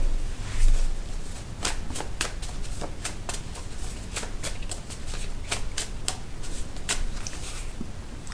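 Playing cards are shuffled close up in quick riffling bursts, with crisp flicks and snaps repeating over a soft, continuous shuffling rustle.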